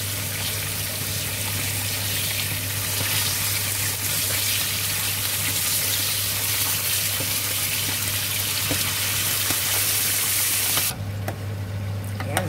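Fish fries in a pan with a dense, loud, continuous spray of sizzling that runs nearly the whole time before dropping off sharply near the end.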